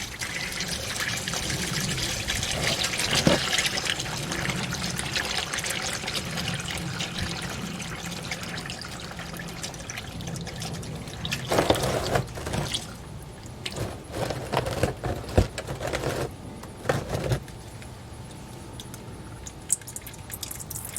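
Engine oil pours from the oil pan of a 2011 Subaru Impreza in a steady close trickle. The stream splashes and gurgles into a catch container, with a few louder bursts of dripping and rattling toward the end.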